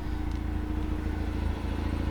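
A 2005 Mazda RX-8 Type S rotary engine with aftermarket exhaust idles steadily with a low, continuous rumble and slight clatter, close by and unbroken throughout.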